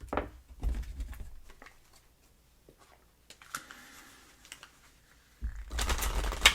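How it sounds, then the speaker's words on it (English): Soft papery riffling and quick tapping bursts of a card deck being shuffled, intermittent and close, with a louder flurry at the end. "Give it a quick shuffle."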